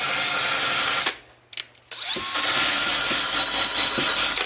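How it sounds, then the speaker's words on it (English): A power tool scuffs a leather-working saddle seat block in a loud, close, steady whine, then briefly stops and restarts with a couple of short bursts before running continuously again. "But what I'll do is I'll go ahead now and I'll scuff this up."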